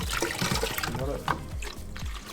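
Water is poured while a bucket is rinsed out at an aquarium water change station, splashing and trickling close by as people talk over it.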